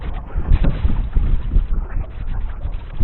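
Blustery wind gusts roar across the microphone aboard a sailboat out in torrential rain, a continuous low buffeting rumble with surging peaks and no speech.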